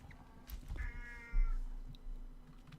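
A cat gives a single short, moderately close meow amid quiet room noise, with no talk.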